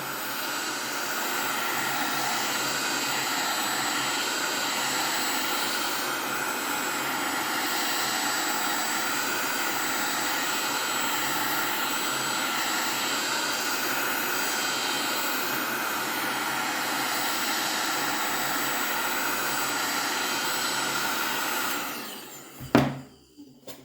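A Black & Decker KX1650 heat gun runs continuously on MDF wood, a steady whooshing fan roar with a constant high whine that holds for about twenty seconds before switching off with a few clicks and thumps.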